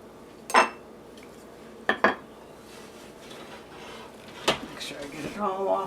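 A spoon scraping and knocking against a pan while stirring thick cream puff paste off the sides, a few sharp close clanks spaced over a low kitchen background with a voice faintly under it.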